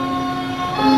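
Train rumbles steadily with a sustained tonal whine, loud and continuous throughout, swelling slightly near the end.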